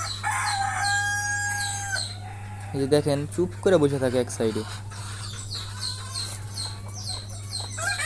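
A hen placed in a rooster's cage on a poultry-rearing setup, with a rooster crowing and chickens clucking nearby while someone talks over them; a loud continuous hum runs underneath.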